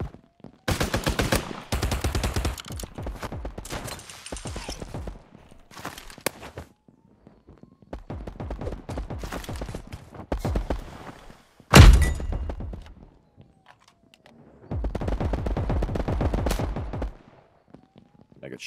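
Gunfire in PUBG, rapid bursts of automatic shots in several clusters separated by short pauses, loud and close, with one sharp heavy blast partway through.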